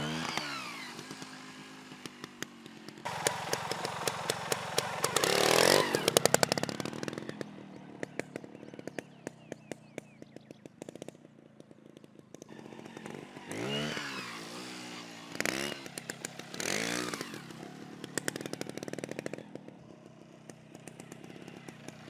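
A motorcycle engine revs and falls repeatedly during wheelie practice, buzzing throttle bursts rising and dropping over a long stretch, heard at moderate distance.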